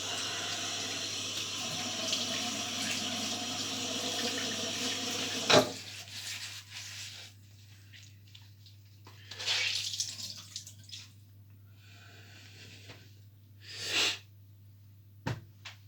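Tap water runs into a sink to wet the face before shaving, first a steady rushing stream that stops sharply, then quieter splashes and drips of hands at the face, with a low hum beneath.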